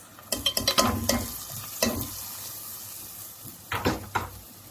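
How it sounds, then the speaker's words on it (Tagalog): Rice is stirred in a pan with sautéed onion, with a few bursts of scraping and clattering over a soft, steady frying hiss. The strokes come close and fairly loud, and no one talks. "haluin natin ito ay turkey style na pagluto guys ng kanin"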